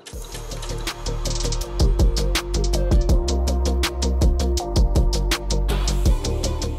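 A sewing machine stitches a buttonhole on cargo jeans, a loud, close, steady mechanical whirr with rapid rhythmic needle clatter running almost continuously.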